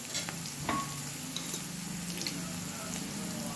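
Chickpeas fry and get stirred in a pan, with a steady close sizzle and scraping, clattering stir strokes running throughout, no one speaking.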